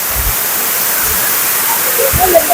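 Water pours at a waterfall in a steady, loud, broadband roar that fills the whole span, with a few low thumps underneath.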